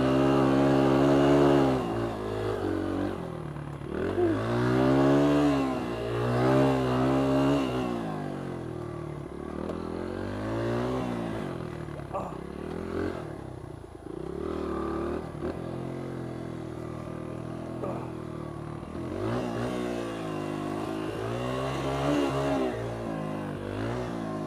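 Honda XR100 dirt bike engine revving hard at full throttle on a wooded track, rising and falling through repeated loud, close, rasping pitch sweeps as it accelerates and shifts, with spinning tires.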